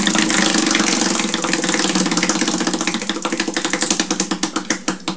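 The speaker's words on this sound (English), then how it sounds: "Let's go ahead and spin the wheel for you guys." A prize wheel spins during a hockey card box break, giving a loud, fast clicking rattle that gradually slows, the clicks spreading farther apart toward the end.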